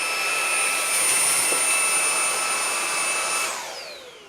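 A Dreame V9 cordless vacuum cleaner runs with a steady, loud high whine and strong airy roar, its motor winding down near the end as the pitch falls away. No one speaks.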